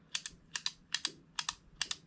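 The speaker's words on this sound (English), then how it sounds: "That is the noise of the anti-reversal latch." The anti-reversal latch in a Krytac Kriss Vector airsoft gearbox clicks as the gears are cycled by hand, sharp paired ticks repeating in a steady rhythm, close and crisp with no talk.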